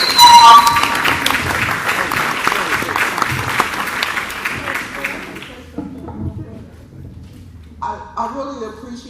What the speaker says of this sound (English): I really appreciate the hand claps